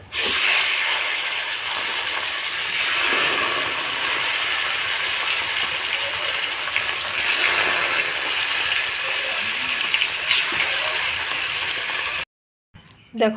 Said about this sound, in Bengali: সবগুলো মাছই ভাজা হয়ে গেছে একটু ভালো করে লাল লাল করে ভেজে নিয়েছি